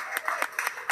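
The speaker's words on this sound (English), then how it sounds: "a round of applause" Audience applause for a chef: a short, close burst of clapping with a few distinct claps standing out in under a second.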